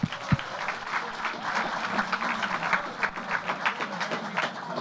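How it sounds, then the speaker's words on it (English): A youth STEM event audience at Google gives a round of applause, a steady crowd of clapping hands sustained throughout at moderate volume, with no speech over it. "Crystal, round of applause, please."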